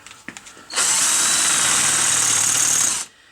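A power drill spins up abruptly to a loud, sustained high whine while cross-drilling a Volvo brake caliper clamped in place, holding for over two seconds before cutting off, with a few light clicks beforehand.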